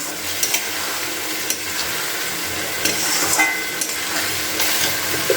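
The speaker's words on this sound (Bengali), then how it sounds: "এবার আমি হলুদটাকে দিয়ে দিলাম দিয়ে একটু ভালো করে নাড়াচাড়া করে নিচ্ছি" Fried spices with turmeric are stirred in a pan for a broccoli and paneer curry, producing a continuous close sizzle with scattered scraping knocks of the spoon and no talking.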